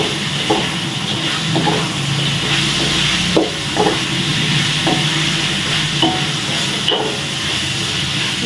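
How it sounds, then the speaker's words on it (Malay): Tempeh frying in hot oil gives a loud, continuous sizzle and hiss, with occasional soft clicks and stirring bumps scattered through it and no voices. "Goreng tempe kita ni."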